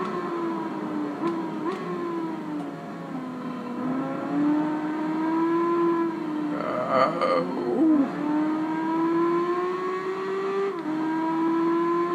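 A motorbike engine in Tourist Trophy on PS2 revs in a steady, droning whine that rises and dips in pitch through gear changes, held loud and close throughout.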